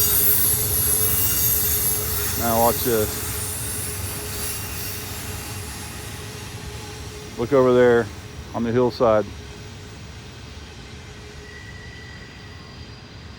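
A long coal train pulled by six locomotives eases downhill around a curve on a Pennsylvania hillside, its wheels squealing steadily under a low rumble, while someone briefly talks over it.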